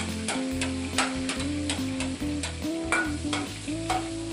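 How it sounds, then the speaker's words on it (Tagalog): Garlic frying in a pan, stirred steadily, giving a close, continuous sizzle with regular scraping strokes of a utensil against the pan and no talking. "Lagay na po natin yung ating bawang."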